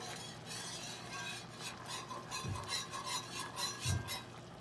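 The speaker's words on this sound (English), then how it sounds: "Then you just wanna whisk it a little bit." A sauce seasoned with black pepper is whisked in a pan, giving a steady soft scraping and stirring texture throughout, with two brief low knocks near the end.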